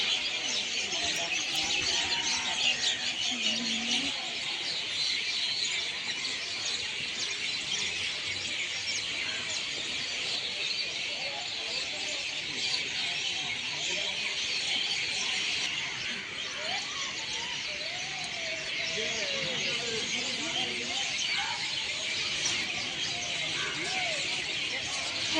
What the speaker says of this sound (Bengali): চারিদিকে এরকম একটা পাখির কলরব শোনা যায় এই সময়টা